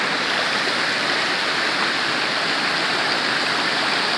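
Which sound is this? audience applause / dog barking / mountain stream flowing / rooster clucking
mountain stream flowing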